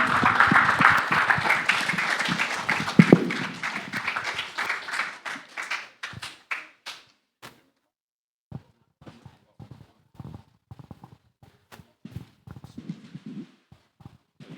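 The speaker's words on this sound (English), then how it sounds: "Another round of applause." Applause from a youth revival audience starts loud and dense, then thins after a few seconds into scattered individual claps and sparse bursts before nearly dying away.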